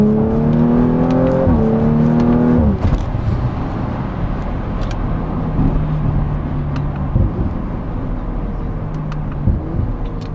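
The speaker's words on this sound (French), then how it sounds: "le petit boom dans l'échappement qui est très sympa." An Audi RS5 accelerates hard from inside the car, the engine note climbing through the gears with sharp drops at each shift, then settling into a lower steady drone of road and exhaust noise.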